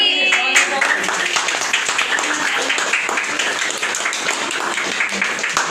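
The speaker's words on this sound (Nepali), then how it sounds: "ताली ताली ताली।" Audience at an honouring ceremony breaks into dense, sustained applause lasting several seconds after a short spoken cue, fairly loud and close.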